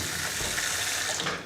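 Tap water runs steadily from a faucet in a house built from waste plastic, a continuous broadband splashing hiss that stays level and close for the whole stretch, with no voices.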